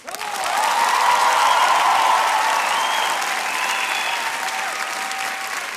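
At a televised singing-competition gala, a studio audience breaks into applause that swells quickly and stays full and even, with a few faint cheers threaded through the clapping.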